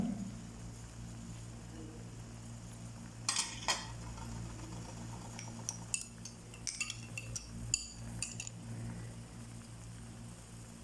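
Fried nuts and raisins are stirred into biryani seasoned with biryani masala. A spoon clinks and scrapes against the pot in scattered bursts over a low, steady background hum.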